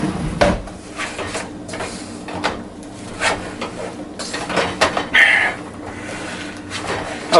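A wooden spoon works through a stiff no-bake cookie mixture in a pot, giving irregular close scraping and knocking strokes with a few louder clatters and no talk.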